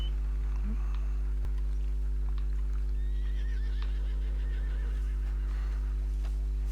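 A horse whinnies in a wavering, trilling call in Red Dead Redemption 2, over a steady low electronic hum, with faint hoof clops and scattered game sounds.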